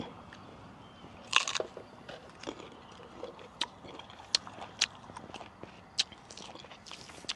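Someone bites into a crisp jujube fruit in a small orchard, with several sharp crunches spread across the clip and chewing in between, heard close up against a quiet outdoor background.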